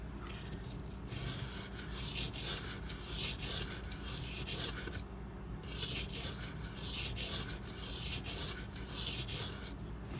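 A Spyderco Dragonfly knife being sharpened on a V-Toku2 stone, steady close strokes of gritty scraping repeating in an even back-and-forth rhythm with one brief pause, no talking.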